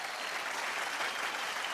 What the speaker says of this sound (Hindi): मैं चाहूंगा कि इन सब लेजेंड्स के लिए एक बार जोरदार तालियां